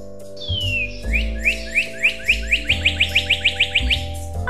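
Bright bird chirps for a red bird, a rising whistle followed by a quickening run of about a dozen short tweets over a steady low musical backing.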